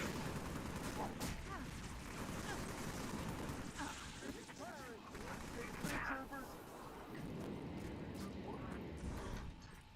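Video game gunfire from Halo Reach in a heavily modded Mythic Overhaul match: dense, continuous bursts of rapid shots and blasts fill the whole stretch, layered under voices talking.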